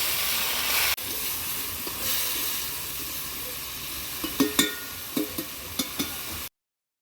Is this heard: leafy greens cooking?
yes